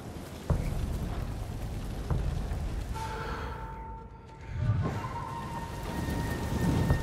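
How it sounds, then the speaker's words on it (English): A storm in the samurai video game Ghost of Tsushima: steady rain hisses over a low rumble of thunder, with occasional dull thumps and a swelling roll midway. "Storm's coming."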